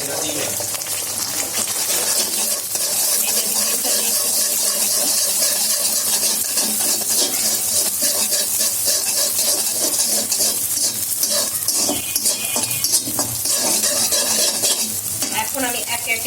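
Egg cracked into a pan where sausages were just fried, sizzling and frying loudly and steadily throughout, with occasional utensil scrapes and stirring clatter close by.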